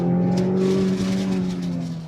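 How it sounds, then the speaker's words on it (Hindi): A petrol MG car engine on a test track drones steadily at close range, its pitch holding level then easing slightly, with a rough, continuous hum throughout. "अच्छा ये पेट्रोल गाड़ी है ना, तो अब साउंड का भी मजा आ रहा है।"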